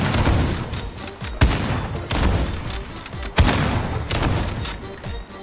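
Two heavy booming AX50 sniper rifle shots ring out in a first-person shooter video game, spaced about two seconds apart over a dense bed of game background noise, with a softer thud in between.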